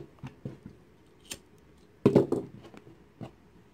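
Scissors snip off a small piece of thread in kandi beading, a few light, close clicks and handling taps with one sharper cut partway through.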